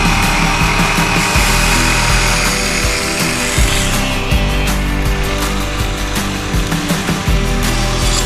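A HUINA 1593 RC excavator scrapes its attachment across hard ground that has been sitting outside, giving a steady, loud grinding and scratching with motor whine and repeated sharp scraping strokes throughout.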